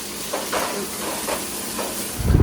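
Onions tipped into a hot pan give off a steady, moderate sizzle and hiss that continues throughout, with a low rumble rising at the very end.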